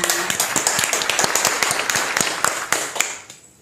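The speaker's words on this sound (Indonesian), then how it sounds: "mari kita sambut dengan tepuk tangan" Crowd applause welcoming the start of an Indonesian podcast, a dense burst of many hands clapping steadily at close range, fading out near the end.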